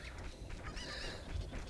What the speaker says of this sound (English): Chickens are annoying.